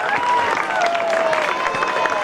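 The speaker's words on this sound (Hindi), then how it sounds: "Please welcome him with a thunderous round of applause" Applause from a crowd at a DAV cluster school sports competition, a thin, continuous patter of clapping heard from a distance, steady but faint, with a faint whistle-like tone drifting over it.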